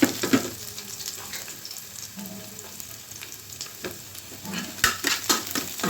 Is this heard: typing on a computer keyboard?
no